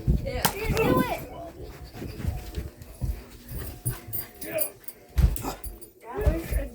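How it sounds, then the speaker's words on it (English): A dog barks and whimpers in bursts during a nerf gun prank game at home, close and loud, with people talking and shouting over it. "My dog's crazy."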